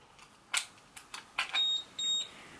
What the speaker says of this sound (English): And then you hear a beep like that.